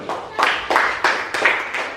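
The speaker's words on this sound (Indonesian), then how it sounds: "tepuk tangan untuk kelompok 2 dulu" A classroom of students clapping for a presenting group, the applause coming in loud, uneven bursts that swell and fade in quick succession, with brief pauses between surges.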